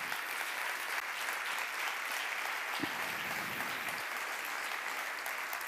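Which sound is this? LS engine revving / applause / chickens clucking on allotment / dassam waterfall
applause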